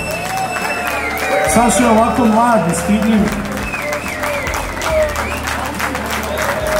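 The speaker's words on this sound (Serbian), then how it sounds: "molim se jedan aplauz" Crowd applause at a biker party, clapping and cheering under someone speaking over music with a sung melody, busy and loud throughout.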